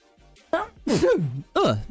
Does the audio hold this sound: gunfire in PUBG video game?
no